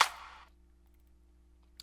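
A single sharp rim shot drum sample cracks loudly and decays quickly, followed by near silence with a faint click at the end.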